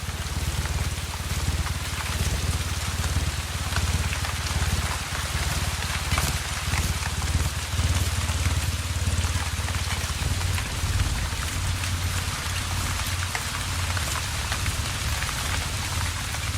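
Steady heavy rain falls in the Atlantic Forest, a dense, continuous hiss of drops striking leaves and surfaces, loud and even throughout with no voices.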